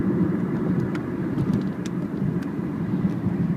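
A 2001 Mazda 626 LX sedan cruising at 50 to 55 mph, a steady low road and engine rumble with a constant drone heard from inside the car.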